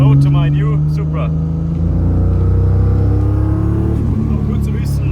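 A turbocharged 1000 hp single-turbo Toyota Supra engine climbs steadily in pitch as it revs hard under acceleration past 4,500–5,000 RPM, a continuous rising drone with road rumble beneath it.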